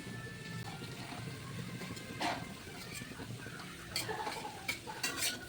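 Spoon stirring chopped small tomatoes into a ridge gourd chutney in a pan, a scraping, clinking mix with light sizzle underneath and a few sharper utensil knocks near the end.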